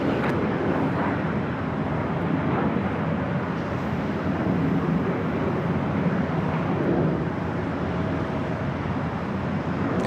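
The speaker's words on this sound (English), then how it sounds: "The Delta 767 400ER coming in from JFK, making its way to the north side terminals here with Delta." A Delta Boeing 767-400ER arriving from JFK taxis toward the north side terminals at LAX, giving a steady broadband jet engine rumble and whine heard from a moderate distance, continuous and unchanging throughout.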